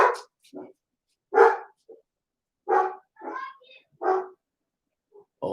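Several dogs bark in a home with children, sharp close barks and yips in uneven bursts separated by short silences.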